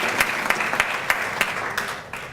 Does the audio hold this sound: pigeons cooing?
no